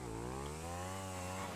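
A motorcycle engine in GTA 5 drones steadily at high revs, loud and close, one continuous buzzing whine that rises slightly in pitch.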